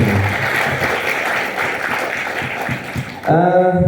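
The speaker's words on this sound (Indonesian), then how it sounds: "Kita beri aplaus untuk beliau." An audience at a religious motivational gathering claps loudly for about three seconds in a dense, close wash of applause, then it stops abruptly as a sustained musical tone begins.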